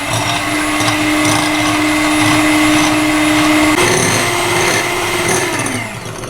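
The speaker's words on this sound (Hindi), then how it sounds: "इसमें हमने 3 to 4 ड्रॉप्स हमने लेमन डालना है और इसको विस्क करना है" An electric whisk beats two egg whites with three to four drops of lemon juice for souffle pancakes, a steady, loud, close motor whir that runs throughout, shifts in pitch midway and eases slightly at the end.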